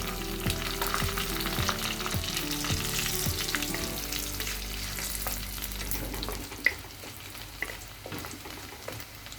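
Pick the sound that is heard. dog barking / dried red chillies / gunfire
dried red chillies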